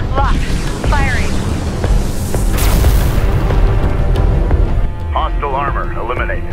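Weapons fire and explosions boom loudly in the Deserts of Kharak strategy video game, with heavy rumbling blasts and whining effects, while chirpy radio-style voice lines speak over the battle.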